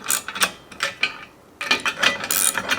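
A ratchet tightens a nut on a rack bracket for a Diamondback truck bed cover, giving several short bursts of quick clicking close by, separated by brief pauses.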